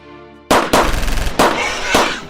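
Rebels attacking fire bursts of gunfire: after a brief quiet lead-in, four loud, close sharp blasts or rapid volleys crack out over about two seconds, each trailing into echo.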